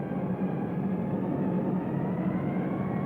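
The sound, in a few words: WWII aircraft wave droning overhead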